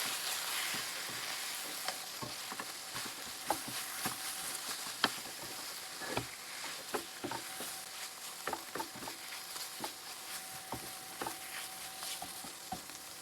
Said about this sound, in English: I'm just going to sprinkle that in, and once again we're going to stir that for about a minute.